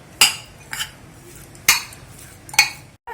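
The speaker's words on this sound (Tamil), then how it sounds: "போட்டு இப்போ இதை நல்லா பிசைஞ்சு எடுக்க போறோம்." Curd rice being mixed in a bowl with a spoon, three or four sharp metallic clinks of spoon against the bowl with soft scraping between them, close and alone.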